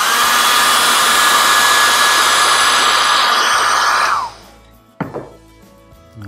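A hair dryer blows steadily and loudly over watercolour paint for about four seconds, then cuts off, followed by a couple of soft knocks and handling sounds.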